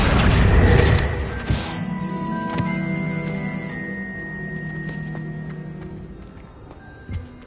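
A Confringo blasting spell in the Hogwarts Legacy video game erupts as a loud burst at the start, then its rumbling, crackling debris and magical ringing tones slowly fade over several seconds, with a small thud near the end.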